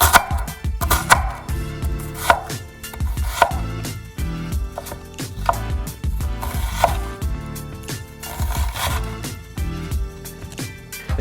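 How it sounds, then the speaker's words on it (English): A knife chops repeatedly through an onion on a cutting board, with steady, close, crisp strokes arriving in uneven bursts throughout. "We're gonna take our knife and we're gonna go away from the hairy end on this side."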